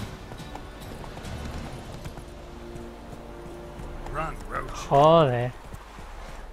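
A horse runs in The Witcher 3 video game, its hoofbeats a quieter, steady clatter under the game's sounds. Near the end someone speaks briefly and loudly over the hooves.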